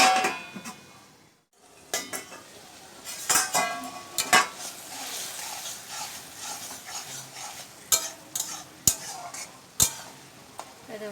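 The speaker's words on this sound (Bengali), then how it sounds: "নেড়ে দিয়ে আবার একটু ঢেকে দিলাম" A spoon stirs a pot of water lily and parshe fish curry, scraping and knocking against the metal, then a lid goes on; close clinks and clatters over a low background hiss, no talk.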